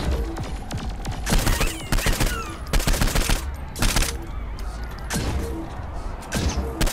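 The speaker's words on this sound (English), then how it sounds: "So who else is shooting me?" Repeated bursts of gunfire in the Saints Row IV video game, loud rapid volleys coming in clusters with short gaps, mixed with game sounds and occasional brief voice.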